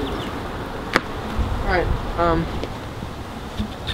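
Honeybees buzz around a beehive during a queen introduction, a soft steady hum with brief louder passes of individual bees near the microphone, while a person speaks a word or two.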